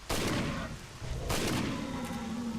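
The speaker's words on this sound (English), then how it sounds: "Gunshots may give us away." Gunfire in the video game Stalker, with several sharp loud shots and booming reports in quick succession, the first near the start and another burst around halfway, with a rumbling tail between them.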